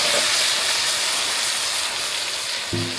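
Chicken meat frying in a pan for a Bengali broiler chicken bhuna, a loud continuous hiss of steam and sizzle throughout, with a short low clatter near the end.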